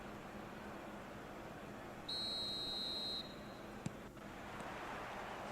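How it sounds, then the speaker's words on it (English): A referee's whistle in an eFootball match gives one steady, sustained blast lasting about a second over low, constant stadium crowd ambience, followed by a faint click. "There's the whistle, and here we go."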